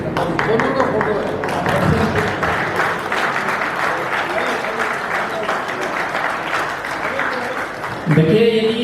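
Loud, sustained applause from an audience at a magazine launch and branch presentation event, dense clapping continuing for several seconds with crowd murmur and voices underneath.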